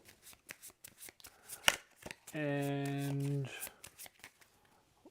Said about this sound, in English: So, I'll just give my bomber deck a quick shuffle.